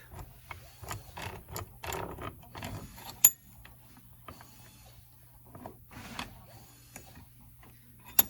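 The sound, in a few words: socket wrench ratcheting on faucet cartridge clamp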